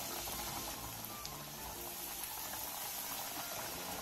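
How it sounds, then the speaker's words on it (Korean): Food deep-frying in preheated oil over medium-low heat, a steady, close, dense bubbling hiss that runs evenly throughout with no voices. "중약불에서 예열한 기름에 넣고 튀겨주세요"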